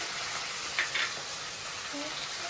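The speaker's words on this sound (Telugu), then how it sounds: "కొంచెం అల్లం తెలగడ్డ పేస్ట్ ఇప్పుడు ఇది మొత్తం ఫ్రై చేసుకున్నాం" Ginger garlic paste with garam masala, chicken masala, chilli sauce and soy sauce frying in a pan for street-style chicken fried rice, giving a steady soft sizzle with a couple of brief stirring scrapes.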